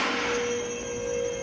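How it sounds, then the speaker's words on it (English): A steady electric motor whine with a constant pitch as a car lift raises a BMW E60 M5, humming evenly without pauses. "All right, we're putting her up in the air to see what the exhaust looks like."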